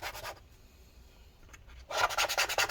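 Softened battery adhesive scraped out of a 15-inch early 2013 MacBook Pro A1398, close rasping strokes in two bursts separated by a quiet pause.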